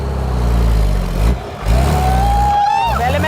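Bus that had been buried underground for five months, engine revving hard while reversing, a loud low growl that dips briefly midway and then surges again, with a voice talking over it.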